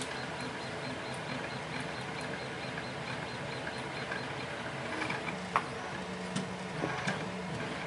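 A pick works inside a Texas Jim lock with faint, sparse metallic clicks and small ticks over a low, steady background hiss, the clicks growing a little more frequent toward the end, quiet and close.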